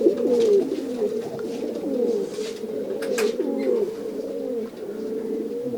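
Racing pigeons coo close by in a steady, overlapping stream of low, rolling calls that continue without pause and with no talk.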